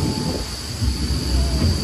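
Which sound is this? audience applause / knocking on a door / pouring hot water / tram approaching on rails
tram approaching on rails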